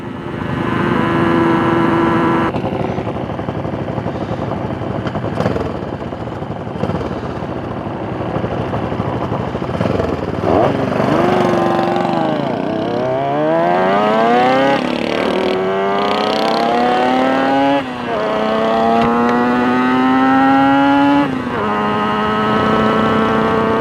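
A Griffin Custom TA125 tribute motorcycle ridden on the road, its engine loud and close, revving through repeated gear changes with rising whine after whine, continuous throughout.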